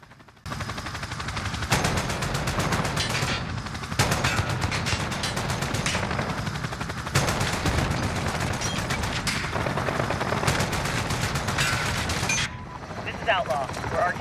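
AK-15 rifle fire in Call of Duty Modern Warfare, loud close bursts of rapid automatic shots in several long strings separated by brief pauses, with a voice heard faintly near the end.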